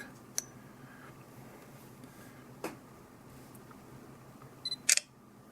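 A quick double shutter click from a Sony Xperia Z3 smartphone camera near the end, crisp and close, after a faint isolated tick earlier in otherwise quiet room tone.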